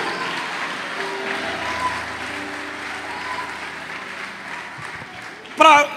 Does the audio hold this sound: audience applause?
yes